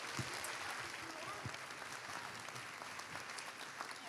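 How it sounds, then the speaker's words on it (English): Steady applause from a crowd at a scholarship awards program, a dense even patter of many hands clapping that keeps going without a break, heard from some distance. "A round of applause for these wonderful students."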